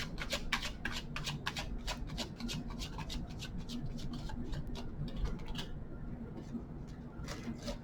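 Tarot cards being shuffled at a reading, a steady soft rustle and riffle of card stock with faint clicks throughout, close and quiet under a low background hum.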